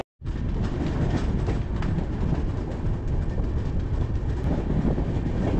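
A train rolls loudly and steadily near Prayagraj Cheoki station in wintry Uttar Pradesh, a dense continuous rumble with faint rhythmic clatter from the cars.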